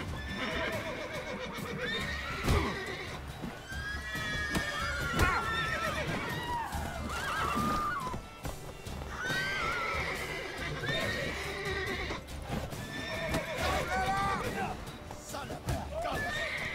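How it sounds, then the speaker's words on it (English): Horse neighing and whinnying loudly in The Witcher 3, with hoof clops and kicking thumps amid game effects, while someone talks over it. "Subió el caballo tirando patadas."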